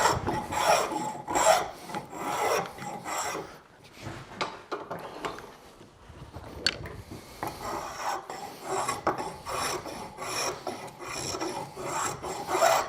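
Rasp filing across wood to texture a handmade stool, with repeated rough scraping strokes in uneven bursts, close and moderately loud, with no talking.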